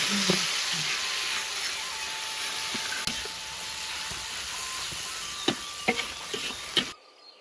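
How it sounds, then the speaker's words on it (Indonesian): Spice paste of chili and galangal sizzles steadily in hot oil in a village kitchen, a bright continuous hiss with occasional soft clicks of stirring, fading out at the end. "Iki bumbune eseng-eseng digoreng sik lur"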